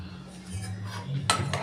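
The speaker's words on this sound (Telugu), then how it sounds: "మూత ఓపెన్ చేసుకొని" A pan lid lifts off with a brief metallic clatter and clink near the end, heard up close over a low kitchen hum.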